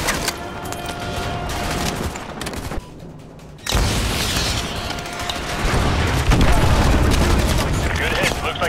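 Missile strikes in Call of Duty Modern Warfare 2 Remastered, Contingency mission: loud rumbling blasts and dense gunfire crackle running continuously, with a brief lull in the middle before the roar returns even heavier.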